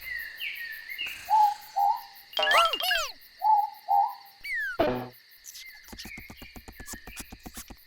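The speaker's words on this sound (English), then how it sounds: "I know that sound. It's Ruru. She's an owl." Soft two-note morepork owl hoots repeat several times at a moderate distance, mixed with sharp chirps, whistles and a steady insect trill in the night air.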